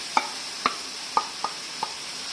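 Onions fry in a pan for mushroom masala curry, a steady sizzling hiss punctuated by five sharp clacks of a utensil stirring against the pan.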